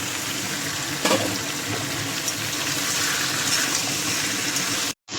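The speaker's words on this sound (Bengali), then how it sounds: "সব কিছু ভালোভাবে কষানো হয়ে গেছে, এখন জল দিয়ে দেবো।" Water pours in a steady, close gush into a pot of chicken and vegetable curry for about five seconds and then stops abruptly.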